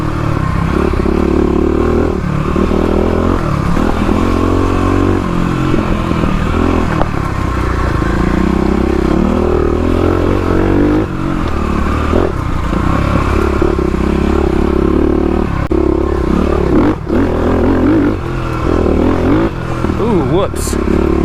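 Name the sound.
Kawasaki KLX351 dirt bike riding off-road trail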